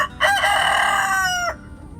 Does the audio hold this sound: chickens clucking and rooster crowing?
yes